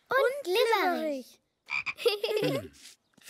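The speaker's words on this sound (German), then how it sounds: "Naja, er ist ein Frosch." A cartoon frog croaks in a children's animated show, with two drawn-out, warbling croaking bursts separated by a short pause, close and clear.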